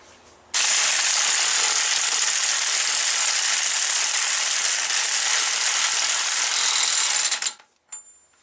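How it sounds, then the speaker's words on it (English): An impact wrench runs a wheel bearing bolt snug on a Chevy Blazer, a loud, steady mechanical rattle that holds for about seven seconds before cutting off, followed by a brief faint clatter. "I'm going to run it up there with the impact just until I get it snug"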